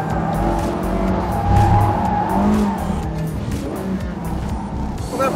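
A Porsche 918 Spyder hybrid hypercar accelerating hard on the Paul Ricard circuit at Le Castellet, heard from inside the car as a steady, loud engine roar with rising tones under faint cabin noise.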